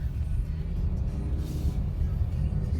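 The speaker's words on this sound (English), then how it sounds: "it tunes it to where better exhaust, sportier sound" Low, steady exhaust rumble from a 2020 Ford Explorer ST with its sport exhaust tuning, a muffled continuous drone heard from inside the cabin with no talk over it.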